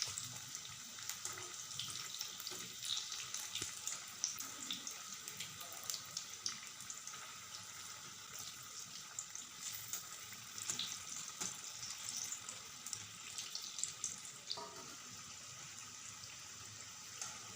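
Pakoras made from bhedailota leaves frying in oil, one side cooked before turning, give a steady crackling sizzle that runs unbroken throughout with small pops, heard alone without talk.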